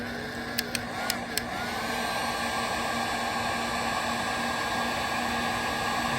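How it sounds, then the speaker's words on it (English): A heat gun being used to light a pellet smoker roars in a loud, steady blowing rush that carries on for several seconds. A few clicks come just before it starts. "Heat gun. Let's go. Let's see how long it takes."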